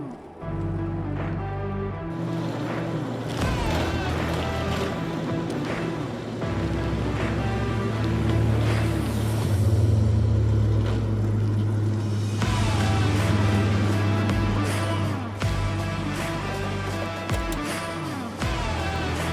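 A homemade, scratch-built crazy cart drives fast, its motor whine and rolling drone steady and close for nearly twenty seconds, with no talk over it.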